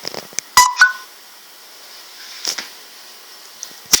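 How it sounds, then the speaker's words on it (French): A mobile phone being plugged in gives a few short electronic beeps and clicks, sparse and close against near silence. "je branche mon portable."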